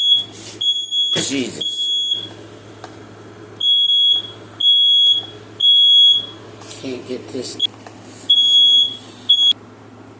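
A smoke alarm beeps in repeated bursts, loud and shrill, with someone talking and kitchen clatter between the bursts.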